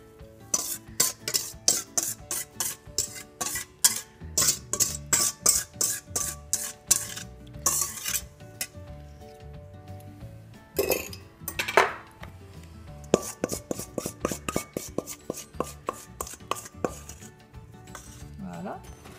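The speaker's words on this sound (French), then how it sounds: "Voilà, donc on mélange bien tout ça." Carrot cake batter with beaten eggs is stirred in a bowl, giving brisk, rhythmic clatter and scraping of a utensil against the sides in repeated bursts with short pauses, close and fairly loud.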